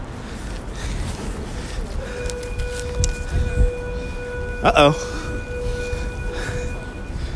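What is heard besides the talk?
school bell ringing in the Bronx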